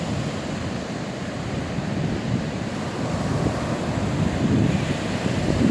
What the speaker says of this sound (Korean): 엄청난 파도가 치고 있습니다.